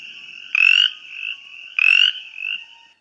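A Brimley's chorus frog calls twice in a winter night setting, each a loud, rising raspy trill followed by a softer echoing call, with a faint steady background chorus.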